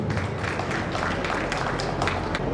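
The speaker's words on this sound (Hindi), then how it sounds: "जोरदार तालियों के साथ स्वागत करेंगे।" Audience applause at a birthday commemoration ceremony for the Garhwal heroine Teelu Rauteli in Kotdwar: dense, steady clapping from a large crowd that fills the whole stretch without a break.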